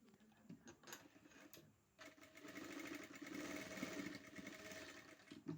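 A sewing machine stitches cloth to make a cloth note. After a few short start-stop bursts and a brief pause, it settles into a quiet, continuous rhythmic whirring run.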